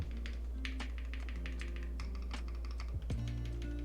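Rapid, steady typing on a mechanical keyboard, with crisp, fairly high-pitched key clicks in a continuous run over a constant low hum.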